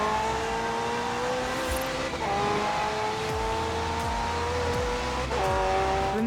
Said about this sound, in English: is delivered by a twin-turbo V8, supplemented by a McLaren ECU electric motor and instant power assist system